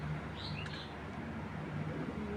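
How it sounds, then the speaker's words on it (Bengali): Two racing pigeons, a cock and a hen, let out a couple of brief high chirps and a faint coo early on, over a constant low background hum, with no talk. "দেখেন কবুতর দুইটা"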